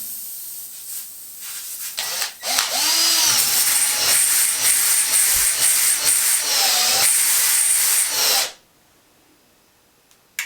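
A power drill whirs while a flat tire is being plugged: one continuous, loud, close whine that holds steady for about six seconds, then cuts off abruptly. No one speaks.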